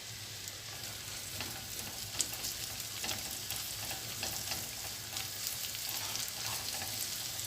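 Onions frying in a pan on high flame for saucy street-style momos, giving a steady, continuous sizzle with occasional faint stirring clicks, close and moderately quiet, with no voices.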